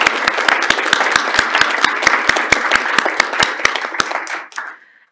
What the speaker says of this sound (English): please join me with a round of applause for all of the contributors